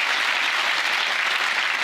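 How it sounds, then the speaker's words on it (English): Television studio audience applauding a participant on a magic competition show: thick, continuous clapping from a large crowd, loud and even throughout, with no voices standing out. "Give her a big round of applause, ladies and gentlemen."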